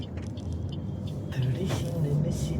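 Light road traffic jam, a mix of car and bus engines idling and moving nearby, with a low rumble and brief higher noises, while a voice talks over it.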